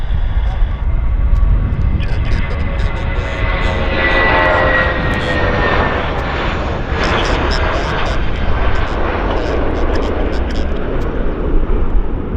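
A United Airlines jet at Vancouver Airport roars steadily through a long, loud stretch of engine noise, with faint voices under it.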